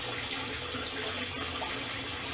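A pond feed pump pushes water with a continuous rushing, splashing flow, close and even throughout, with a thin steady whine riding above it.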